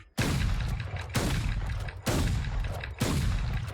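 Bucky shotgun in Valorant firing in quick succession, four loud blasts about a second apart, each with a sharp onset and a boomy decaying tail, close and alone.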